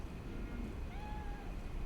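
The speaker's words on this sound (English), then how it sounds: "Oh, I can hear the cat." Cat meowing in Cyberpunk 2077, a single soft drawn-out meow rising over a steady low game ambience and background music, fairly faint and close.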